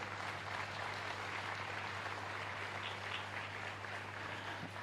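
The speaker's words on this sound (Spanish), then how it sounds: "Fuerte aplauso para Él." Steady applause from a congregation at a live Catholic Mass in a parish church, a soft, even patter of many hands heard at a distance beneath a low constant hum.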